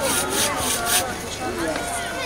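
A hand saw rasps back and forth through wood in quick, rhythmic strokes as a cradle is made at a Sicilian nativity scene, with people talking over it.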